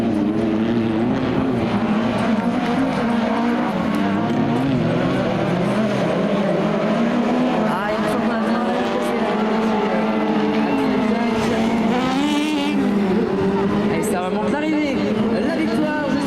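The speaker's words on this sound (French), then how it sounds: "Jérôme Rouxel est en train de bien tenir pour l'instant la tête de la course" Touring race cars lap a circuit during a Tourisme Cup semi-final at Les Cresnays, their engines a continuous distant roar with passing whines rising and falling throughout, heard steadily for the whole stretch.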